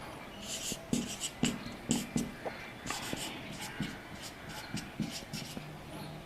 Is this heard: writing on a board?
yes